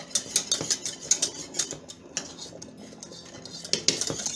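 A metal spoon stirring plant-based food in a pot while cooking a Thanksgiving meal: quick rhythmic scraping clinks against the pot's sides, close and clear, with a short lull before the stirring resumes.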